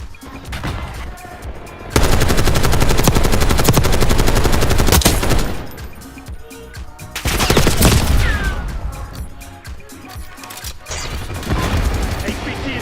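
Video-game gunfire rattles in loud, sustained automatic volleys, easing briefly between bursts before more shooting erupts, close and dense throughout.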